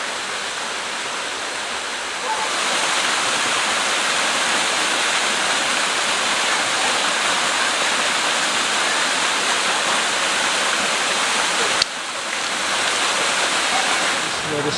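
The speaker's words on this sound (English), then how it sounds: "So this is always known as a three-tiered waterfall." A steady, loud roar of a three-tiered waterfall, Nant-Y-Ffrith Waterfalls, fills the scene continuously, broadband and unbroken, with a brief bump near the end.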